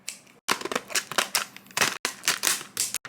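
Quick, irregular snipping and crunching, like scissors cutting through stiff plastic packaging, in close bursts separated by brief pauses.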